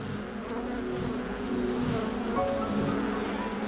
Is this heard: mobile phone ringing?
no